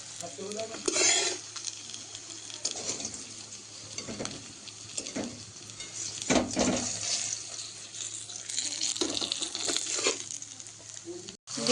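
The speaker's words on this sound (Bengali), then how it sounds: "দ্বিতীয় দফার মাছগুলো ভাজা চলছে" A second batch of fish frying in hot oil in a pan, a steady sizzle broken by repeated scraping and stirring strokes of a spatula, close and fairly loud, with no voices.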